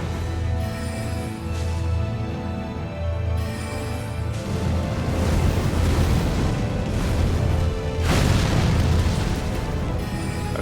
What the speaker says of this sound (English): I was expecting the spear explosions.